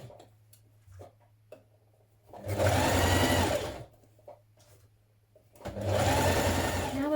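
A sewing machine runs up the centre back seam of a dress in two close, loud bursts of rapid stitching, separated by quiet pauses with faint ticks and handling of the fabric.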